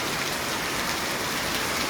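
Heavy, steady downpour of fresh seasonal rain in rural Gujarat, a dense continuous roar of drops on surfaces, loud and unbroken with no voices.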